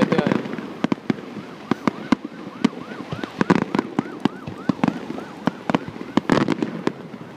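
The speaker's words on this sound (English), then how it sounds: "This is how you celebrate 4th of July. Have your boy right next to you. And just watch the fireworks." Fourth of July fireworks bursting in a rapid, irregular string of sharp bangs and crackles, some near and loud, others farther off, while a siren wails faintly in the background and people talk quietly.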